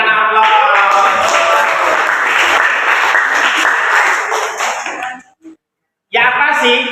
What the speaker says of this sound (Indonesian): Berikan aplaus.